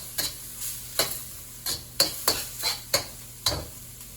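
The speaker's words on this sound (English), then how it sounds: "You're going to stir fry it until it changes color." Shrimp are being stir-fried in a pan for Chinese scrambled eggs with shrimp, a spatula scraping and clacking in about nine sharp, irregular strokes over a faint sizzle, close and distinct, with no talking.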